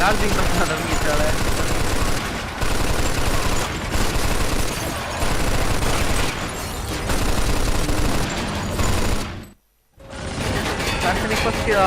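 Sustained rapid machine-gun fire and explosions in the video game Mafia 2 rattle almost nonstop, loud and dense, with a brief dropout near the end before the firing resumes.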